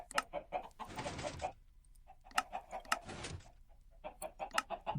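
Chickens cluck in Minecraft, with short repeated clucks and clicks in a steady rhythm broken by two bursts of hissing noise, fairly close and clear with no talking.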